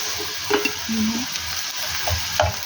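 Chopped onion dropped into hot oil in a pan for a Filipino snack, a bright continuous sizzle with a few stirring scrapes and clunks, close and alone without talk.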